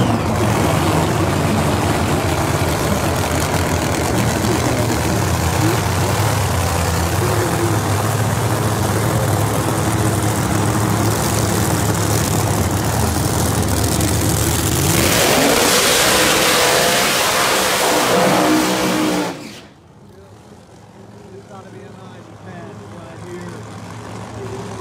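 A drag racing car engine at Tulsa Raceway Park roars loud and steady, swelling into a harsher rev near the end before cutting off abruptly, with an announcer's voice faintly mixed under the din.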